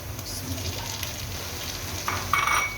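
Onion and bay leaf fry in a pan with a soft, continuous sizzle, broken near the end by a few light clinks of a utensil against the metal, with no one talking.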